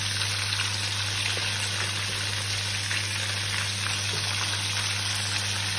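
Sardines fry in a pan for a Moroccan-style recipe, a steady close sizzle and crackle with a constant low hum beneath, no voices.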